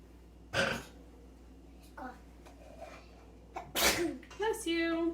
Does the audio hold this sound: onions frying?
no